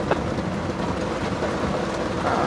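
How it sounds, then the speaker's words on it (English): A thunderstorm is heard from inside a camper as a steady, dense hiss of rain over a low rumbling undertone, constant and fairly loud throughout, with no voices. "I love thunderstorms normally"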